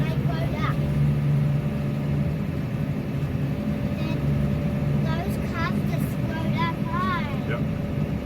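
A New Holland T7.220 tractor hauls an Overum plough through a field, its engine giving a steady, loud low drone throughout while voices talk faintly over the top.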